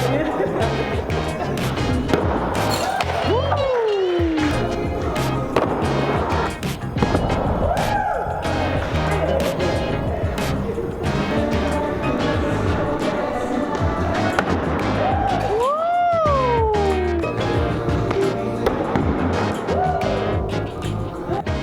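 Axes are thrown at wooden targets in an axe-throwing venue in Orlando, with repeated sharp thwacks scattered through a lively room where people talk.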